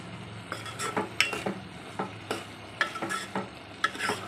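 Sprouted moth bean curry (matki usal) stirred in a pan, a steady run of spoon scrapes against the metal with soft sizzling beneath, close and alone.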